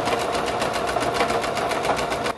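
A sewing machine runs steadily at close range while edge stitching the binding around a baby romper, one continuous rapid mechanical whirring with no pause, loud and alone.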